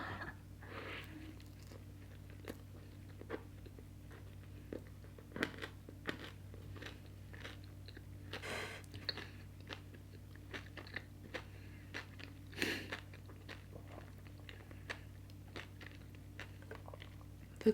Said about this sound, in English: The crunch added to the sandwich by the M&Ms is just phenomenal